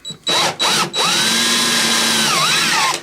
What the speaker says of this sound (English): Adam's using the little jig here to drill the hole into the corner piece